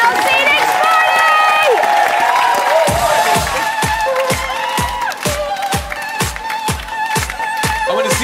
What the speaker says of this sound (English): Everybody clapping with your hands in the air.